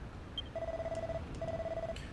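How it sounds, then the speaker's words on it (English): A bell rings in the video game Dragon Quest Builders 2 as two bursts of rapid, electronic-sounding trilling, each lasting about half a second, with faint clicks around them. "that bell you keep ringing"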